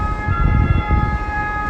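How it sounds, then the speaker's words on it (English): An ambulance siren wails steadily on a busy city street, loud and close, with traffic rumbling underneath. "I hate to say it, but another ambulance is coming"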